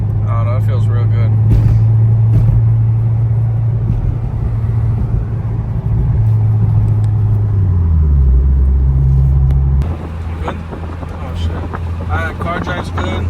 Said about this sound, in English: Car drive's good.